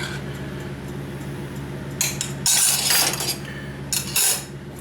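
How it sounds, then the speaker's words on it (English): A utensil scrapes and clinks against a metal pot of boiling noodles in a kitchen, a few short bright clattering bursts over a low steady background hum. "Just stir your noodles, keep an eye on them"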